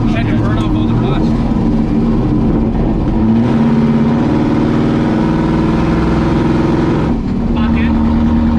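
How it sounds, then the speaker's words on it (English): A Fox body Mustang's engine drones steadily at close range during a brake burn, its pitch shifting as revs rise and fall, with people talking over the engine noise. "I'm gonna give the brakes a good burn."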